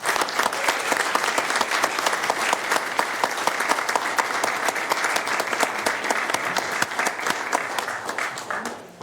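An audience at a Board of Supervisors meeting claps steadily for about nine seconds, loud and sustained, tapering slightly at the end.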